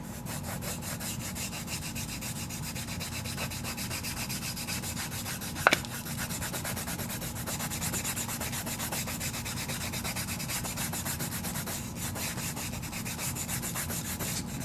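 Steady soft rubbing as red rouge compound is worked into a leather strop, a faint continuous scratchy friction with one brief sharp tap partway through.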